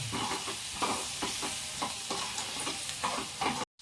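Egg curry masala frying in a pan with turmeric, chutney and sambar spice is stirred in a steady rhythm of scraping strokes over a constant close sizzle.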